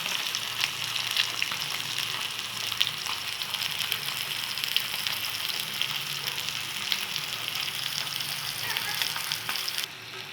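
Fish frying in oil on a flat tawa griddle, a dense steady crackling sizzle that stays loud and even, with faint spattering pops and a brief drop at the very end.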